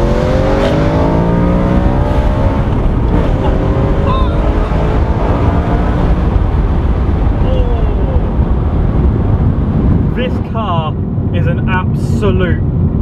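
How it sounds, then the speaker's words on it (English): Decatted BMW M3 V8 revving hard through second gear from about 4,000 toward 8,000 rpm on a B-road, a loud rising roar with wind buffeting, easing off near the end. "roaring V8 that echoes off the building"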